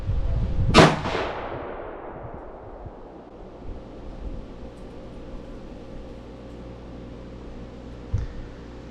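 A single loud, sharp rifle shot from a Ruger American Gen 2 Predator fired at a range while it is sighted in, followed by a long fading echo across open ground and a faint thump about seven seconds later.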